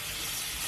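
Mushrooms and pancetta sizzle in a hot pan, a steady broadband hiss that stays even and close for a brief moment.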